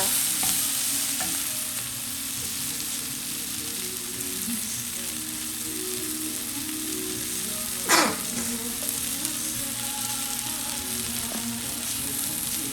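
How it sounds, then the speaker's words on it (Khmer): Jalapeño peppers and tomatoes roasting in a pan give a steady, close sizzle with faint stirring scrapes throughout and one brief sharp clatter partway through; no talking. "នេះគឺ jalapeno ចា នេះគឺ ពីប៉ោះ ហើយខ្ញុំលីងឲ្យឆ្អិនចា"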